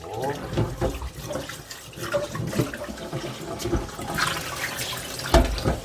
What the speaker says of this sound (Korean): 이 밥통을 깨끗이 닦아주시고, 깨끗이 한번 닦아주시고